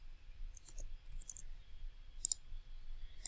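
Several brief, light plastic clicks from calculator keys as numbers are typed in, spaced irregularly over a quiet room hum, with no talking.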